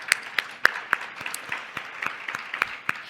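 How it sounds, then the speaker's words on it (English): A symposium audience at a cancer institute gives a round of applause, with dense, steady clapping throughout and sharper individual claps popping out at fairly regular intervals. "let's give them a round of applause as well"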